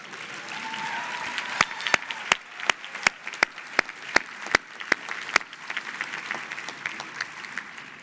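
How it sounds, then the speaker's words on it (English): Graduates at a 2018 graduate commencement clap for themselves. The applause is broad and continuous, and a few sharp, loud claps stand out near the microphone. "Will you just applaud yourselves?"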